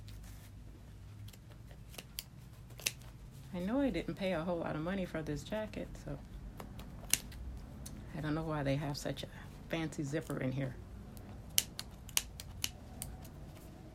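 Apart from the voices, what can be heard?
scissors cutting old zipper out of sports jacket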